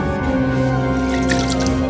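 Water said to come from the bottom of the Bermuda Triangle drips and trickles into a potion mix, small wet liquid sounds running steadily over a low sustained musical drone, with no voices.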